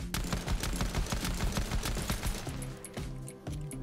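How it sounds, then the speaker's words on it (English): Rapid automatic gunfire aimed at the player in a video game, a loud dense burst of shots that thins into spaced single cracks toward the end, with no talking over it. "Stop shooting me!"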